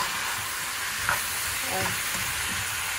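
Chicken and bok choy stir-fried in a pan make a steady, loud sizzle with faint scraping from stirring throughout, close up and with no talk.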